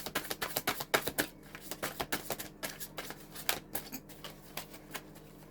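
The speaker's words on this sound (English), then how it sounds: "Gee, this is a big deck. It's not the easiest to shuffle." A large tarot deck is shuffled by hand, producing a fast rhythmic series of soft riffling clicks at close range.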